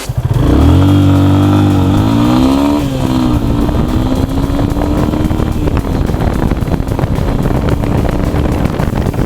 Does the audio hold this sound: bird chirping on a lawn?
no